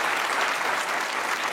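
A brief burst of audience applause, dense and steady clapping from a crowd lasting under two seconds.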